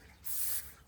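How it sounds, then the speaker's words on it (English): A short, quiet hiss of penetrating oil sprayed from a can onto the wheel bearing bolts of a 2010 Nissan Frontier 4x4, a single burst lasting under half a second. "we'll get some penetrating oil on here."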